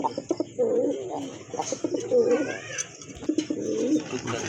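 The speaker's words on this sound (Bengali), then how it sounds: "দেশি বোম্বাই কবুতর" Domestic Bombay pigeons coo in repeated low, throaty bursts close by, several calls overlapping, with faint background murmur between them.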